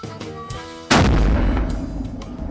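A single hunting rifle shot fired outdoors in Kansas, one sharp, loud crack near the middle that rolls off into a long echoing rumble after a short quiet start.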